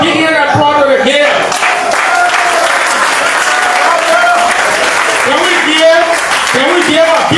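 An outdoor groundbreaking ceremony audience for Bentol City's electrification applauds the mayor, steady loud clapping filling the whole stretch with some shouts mixed in.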